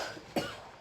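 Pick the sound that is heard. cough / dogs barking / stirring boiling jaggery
cough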